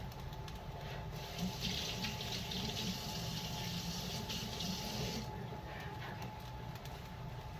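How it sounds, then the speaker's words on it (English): A kitchen tap runs steadily into a sink during hand washing, a constant close rushing of water with slight splashing changes as hands move under the stream. "Let me wash my hands."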